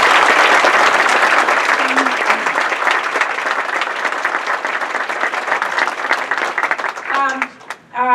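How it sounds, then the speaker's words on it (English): A summit audience breaks into sustained, loud applause at an afternoon session, dense clapping filling the room for about seven seconds before thinning out as a voice begins to speak near the end. "So give him another round of applause."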